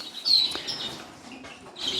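Pet canaries and native finches in a birdroom give high, thin chirps and a bright whistled note over a steady room hiss, with a faint fluttering tap and a fresh burst of calls near the end.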